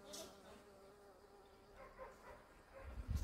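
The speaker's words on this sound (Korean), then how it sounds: "호박벌이 와갖고," A bumblebee buzzes faintly while pollinating valerian flowers on a rural hillside, a soft continuous hum with small swells, heard alone outdoors.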